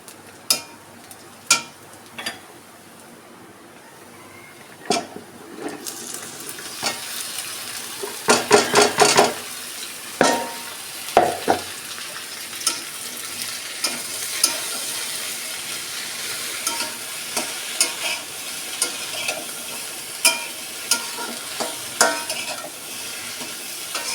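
Okra tipped into a hot pan, bursting into loud sustained sizzling and frying hiss, with repeated scraping and clinking of a spatula stirring against the pan, close and continuous.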